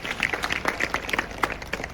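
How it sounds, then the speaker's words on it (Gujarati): An audience applauds at a motivational program held at a high school, with a dense, steady patter of many hands clapping throughout at moderate loudness and no talk over it. "આના માટે તાળીઓનો ગણગાટ"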